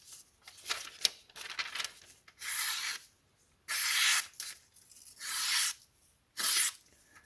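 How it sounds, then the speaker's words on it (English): A knife blade makes S-cuts across the grain of flimsy phone book paper, a series of soft, close, papery hissing slices in several short bursts with brief pauses between. "doing S-cuts across the grain on this nice flimsy phone book paper"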